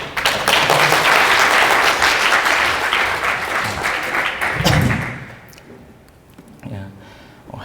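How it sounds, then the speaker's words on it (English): An audience at a programming conference session applauds loudly to welcome a speaker, and the clapping fades after about five seconds, followed by a few thumps and quieter room sounds. "Please welcome him with applause."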